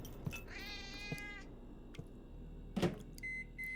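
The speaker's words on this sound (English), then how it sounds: "A cat." A cat meows once with a drawn-out, wavering cry, followed by faint clicks and a soft thump, with quiet electronic beeps near the end.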